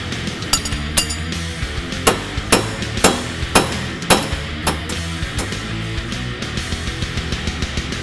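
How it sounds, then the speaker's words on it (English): A hammer strikes a nut threaded onto a splined bolt on a 2015-2020 Mustang during coilover installation, about ten sharp metallic blows in a steady rhythm, close and loud over faint workshop background. "then hit the nut with the hammer"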